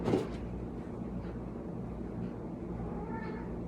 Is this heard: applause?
no